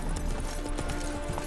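Hooves of Geralt's horse Roach clip-clop steadily in a Witcher 3 game scene, a quick even rhythm of close hoofbeats over a dense ambient bed.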